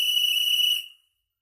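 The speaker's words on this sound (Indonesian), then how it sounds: "simbol garis disampaikan dengan peluit panjang" A single long scouting whistle blast marks a Morse code dash: a shrill, steady tone held for almost a second, then cut off cleanly into silence.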